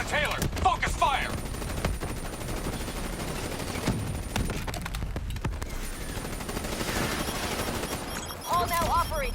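Gunfire in Call of Duty: Black Ops 3 crackles in rapid bursts alongside game effects and electronic tones, with a voice speaking briefly at the start and end.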